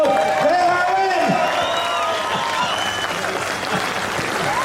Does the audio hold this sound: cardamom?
no